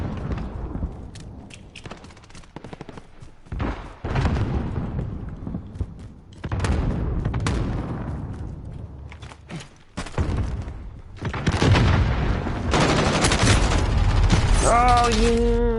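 Airstrike explosions in a video game: repeated heavy booms and cracking blasts with scattered gunfire, loud and near, in bursts separated by brief lulls.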